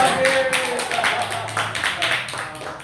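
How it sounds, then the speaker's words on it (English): A crowd claps and applauds steadily for a few seconds, with voices and cheering mixed into the burst of clapping. "Let's give him a big round of applause."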